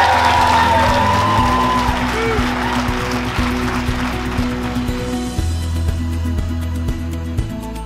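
Wedding guests cheer and whoop as the couple kiss, a lively crowd roar over steady music, loud and close throughout.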